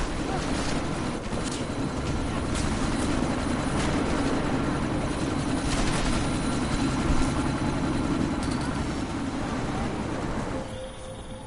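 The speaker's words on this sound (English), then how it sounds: "That chopper's about to take off!" A helicopter lifts off in the video game Deus Ex: Mankind Divided, its rotor and turbine roar loud and continuous throughout before cutting off abruptly near the end.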